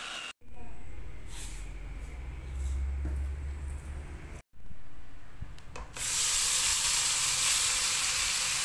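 Loud, steady sizzling and hissing of food sautéing in oil in a pan, with brief breaks and a harsher, brighter burst near the end.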